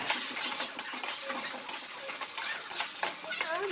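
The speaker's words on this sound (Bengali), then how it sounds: "মশলাটা আমি ভালো করে কষিয়ে নেব যতক্ষণ না মশলা দিয়ে তেল ছেড়ে যাচ্ছে" Spice masala for ghugni fries in oil in a pan while a spoon stirs it, making a continuous close sizzle broken by scraping strokes and metal clinks. Someone talks over the cooking.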